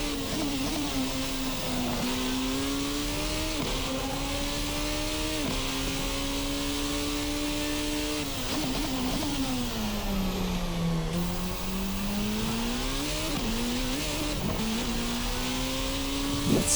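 Formula RSS Supreme race car in a racing sim game, engine screaming near and loud as it revs up through the gears, with a string of rising pitch sweeps cut by quick shifts and dips.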